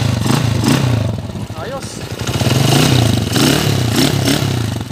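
A repaired motorcycle engine runs steadily with a throaty, pulsing idle and slight rises in revs, loud and close, while someone speaks briefly over it.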